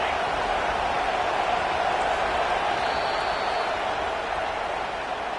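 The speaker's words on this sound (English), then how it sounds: "Decibels rising as the crowd gets behind this defense on 3rd down." Stadium crowd roar from the college football video game NCAA 25 on a third-down defensive stand, a dense, steady wash of massed voices that holds loud and even throughout with no break.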